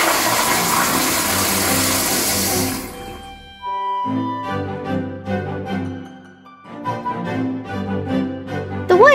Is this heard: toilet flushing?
yes